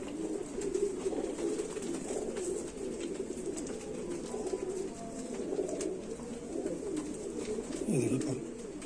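A Rampuri pigeon coos in low, continuous rolling calls, close and steady, while someone speaks over it.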